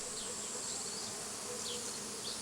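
Honeybees in Taiwan buzz in a steady, unbroken drone with no voices, fairly quiet and even throughout, with a few faint higher whines drifting past.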